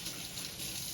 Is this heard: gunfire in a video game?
no